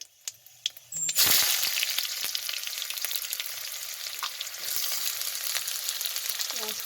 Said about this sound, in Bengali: দেখো আমি এবার পেঁয়াজটা ভাজা ভাজা হয়ে এসেছে